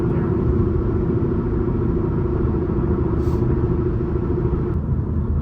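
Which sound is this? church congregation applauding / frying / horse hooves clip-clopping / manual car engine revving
manual car engine revving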